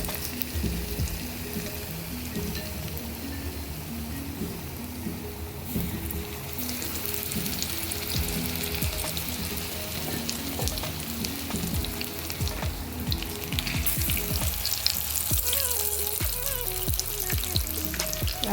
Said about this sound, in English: And I'll dip the beguni here, that is one by one, and then put it in the oil.